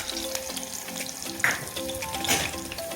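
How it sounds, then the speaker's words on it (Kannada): Green chillies cut into three pieces frying in hot oil, a close, dense sizzle with crackling spits and a couple of stirring scrapes, continuous through the short stretch. "3 ಕಟ್ ಮಾಡಿರುವಂತಹ ಮೆಣಸಿನ್ಕಾಯಿನ ಹಾಕೋತೀನಿ. ಈಗ ಚೆನ್ನಾಗಿ ಫ್ರೈ ಆಗಲಿ."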